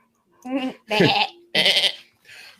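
A human voice mimics a goat's bleat with four wavering, nasal cries, the middle two loudest and the last softer, close up and alone with no other sound.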